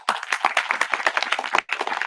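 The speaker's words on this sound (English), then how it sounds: "This clap sound from audience can wake me up, and it is beneficial for audience also." An audience bursts into brisk, dense clapping at a Valmiki Ramayana conference lecture, loud and close, with a brief dip before the applause picks up again.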